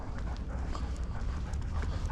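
Several dogs pant hard and rapidly while pulling along a mountain bike trail, close and loud over a dense rustling bed of movement, with no one talking.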